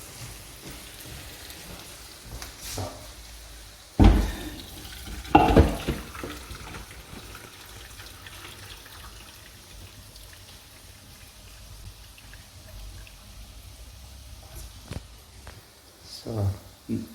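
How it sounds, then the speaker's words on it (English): Cooking water draining from spätzle through a makeshift strainer, a steady soft patter and trickle of water with a few louder splashes and clatters, fairly quiet. "let us drain the water out of this Spätzle"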